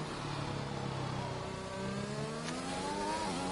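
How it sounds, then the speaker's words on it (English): A race car engine revs loud and steady as the car passes through the tunnel at Monaco in a sim racing game, its pitch rising and shifting with acceleration and no talk over it. "The only car on the track right now is Guelphy as he comes through the tunnel with sounds of heaven."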